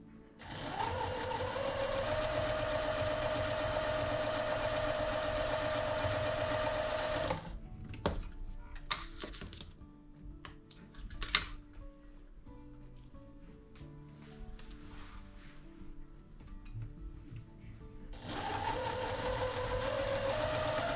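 A sewing machine stitches seams on a ribbon rings quilt made from pre-cut fabric, running loud and steady up close, pausing briefly with small clicks and handling noises, then starting up again.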